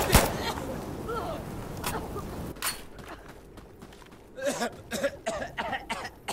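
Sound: video game characters coughing

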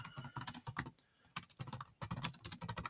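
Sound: typing on a computer keyboard

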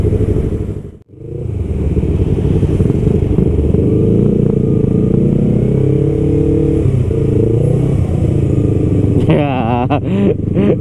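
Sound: motorcycle engine being ridden

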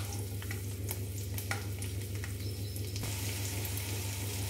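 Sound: garlic being lightly fried and stirred in a pan

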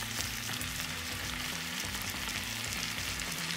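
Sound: chicken frying in a pan, chopped tomato added

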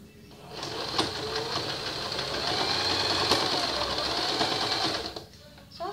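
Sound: sewing machine stitching a dog shirt

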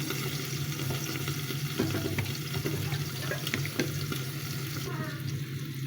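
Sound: soybean oil poured into a hot wok (karai)

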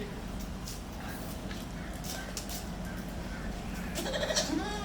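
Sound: goat kid bleating

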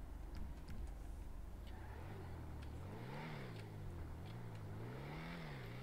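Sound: Vectre car engine in the video game GTA 5 Online

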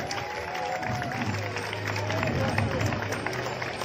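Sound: audience applause for chief guests and school

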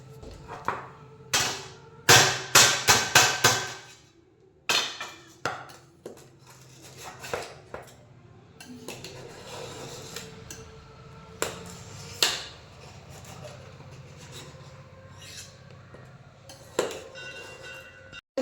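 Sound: knife scoring boiled eggs in a pan

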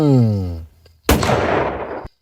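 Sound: gunshot sound effect

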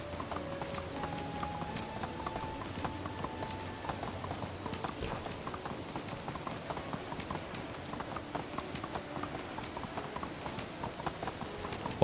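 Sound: horse hooves clip-clopping in video game Medieval Dynasty

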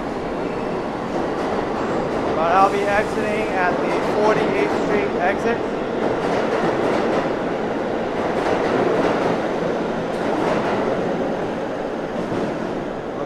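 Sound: subway train

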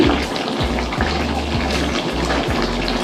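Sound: hot water poured into cooking chicken

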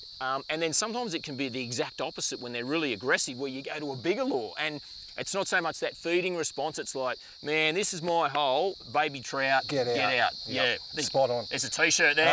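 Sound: cicadas buzzing in the background by water

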